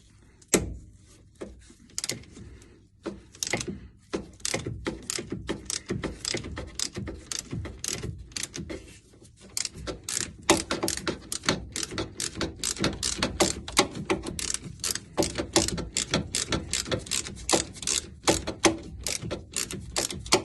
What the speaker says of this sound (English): So try and get this pinch bolt undone.